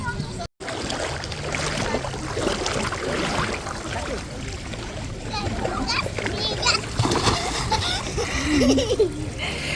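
A child jumps into a swimming pool, making repeated splashes and continuous rushing water that blend into a busy poolside scene with children and adults talking.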